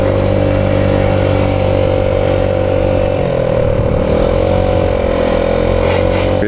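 A Rex RS 700 scooter rides along, its engine droning steadily and loudly close by with a sustained tone that dips and rises slightly as the speed shifts.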